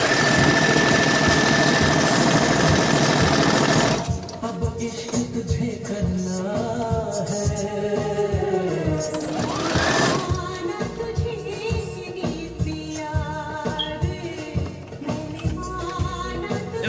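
A sewing machine stitches fabric for a diara or dirac garment with a continuous mechanical whir. The whir is smoother at first, then turns into a rhythmic knocking hum with tonal whine. It stays close and steady throughout.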